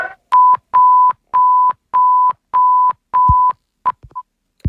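An EAS alert tone sounds as a loud, steady electronic beep repeated six times in even bursts, followed by a couple of shorter blips and a brief thump.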